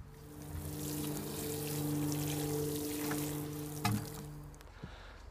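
Water pours steadily onto soil over freshly sown cucamelon seeds on an allotment, a soft continuous splash and trickle that swells and fades, ending with a couple of small knocks as the pouring stops.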